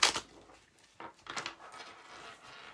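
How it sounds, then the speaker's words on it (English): Halloween playing cards being shuffled by hand, giving a short burst of papery riffling and patter followed by softer flicks and rustles, close up with no talking. "I am shuffling my Halloween cards"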